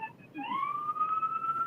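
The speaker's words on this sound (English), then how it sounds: "I hear sirens, but I got to get out of here." A police siren wails from a distance, its pitch sweeping up and holding steady against a quiet background.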